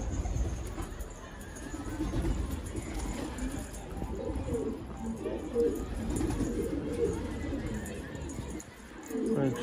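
Pigeons coo softly at close range, a runaway bird caught in its hiding spot, the low calls repeating under steady background noise and a little distant babble.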